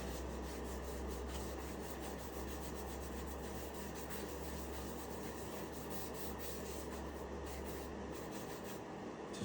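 A cloth rubs wood finish onto a wooden piece in a woodworking shop, a steady, close, soft swishing scrub that continues without pause and without talk.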